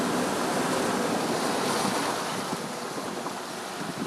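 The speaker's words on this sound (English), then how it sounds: "One of the wider river crossings and one of the deeper ones" A vehicle drives through a wide, roughly foot-deep river crossing in the Victorian High Country: continuous rushing, splashing water mixed with heavy wind buffeting on the microphone, loud and unbroken throughout.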